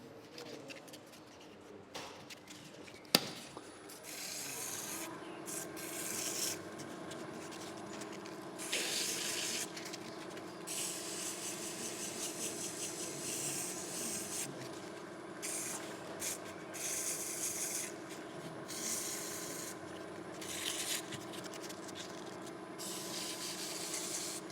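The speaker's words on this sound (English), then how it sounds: "So you can see the way I hold the sandpaper, it goes round my finger." Sandpaper wrapped round a finger rubs against a turned wooden cup on a lathe, giving a steady hissing scrape in repeated bursts over a constant machine hum.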